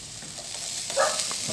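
Chopped onions fry and are stirred in a pan for spicy buffalo wings, a steady close sizzle broken by soft scraping strokes, with no voices.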